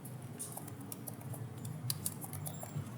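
Computer keyboard being typed on, a faint patter of light, quick keystroke clicks scattered irregularly over a steady low background hiss, with no speech.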